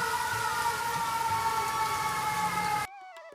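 A cartoon ambulance siren wails in a loud, steady tone, unbroken for about three seconds before it cuts off abruptly.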